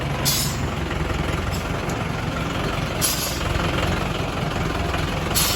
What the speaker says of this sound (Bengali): হাওয়া ব্রেকে সিস্টেম আওয়াজ দিচ্ছে ফ্যাস্ট ফাস্ট করে